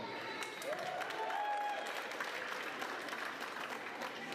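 Audience applause at a university graduation ceremony, a steady wash of clapping from a crowd that carries evenly for a few seconds at moderate distance.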